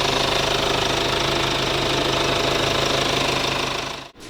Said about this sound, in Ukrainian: двигунець, як бачите, працює